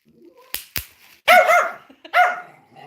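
A pet dog named Gonzo barks twice in sharp, loud bursts, then gives two longer, whining yelps, all close to the microphone with no talking over it.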